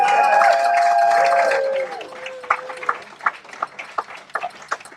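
Scattered, uneven handclaps from a small audience at a live brewery event, Brew York Live, following a few seconds of tonal sound, with individual claps standing out.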